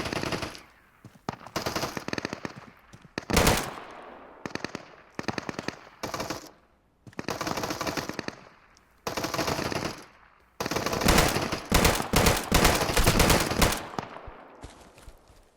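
Rapid automatic gunfire from the video game Deadside comes in repeated loud bursts, some short and some long sustained volleys, with brief quiet gaps between them and a dense heavy stretch near the end.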